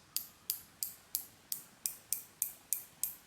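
The bezel of a Spinnaker Vintage Wreck automatic dive watch (SP-5051-04) is turned click by click, giving nine crisp, evenly spaced, close-up ratcheting clicks in an otherwise quiet setting.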